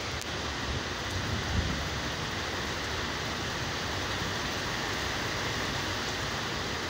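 Hard rain driven by wind on a wet porch during a Georgia storm, a continuous broad hiss that stays steady and close the whole time, with a slight swell near the start.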